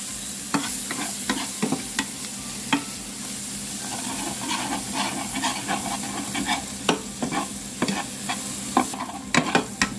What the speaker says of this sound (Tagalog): Ang bawang, sabay-sabay na. Ayan, simutin natin. Halo-halo lang para hindi masunog.